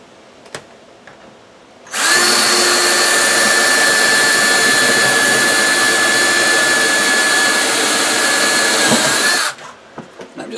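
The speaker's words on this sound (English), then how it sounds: "I'm just going to drill through from the other side" A power drill with a large bit drills through a kitchen cabinet, roaring loudly and steadily for about seven seconds, close up, starting and stopping abruptly, with quiet handling noise on either side.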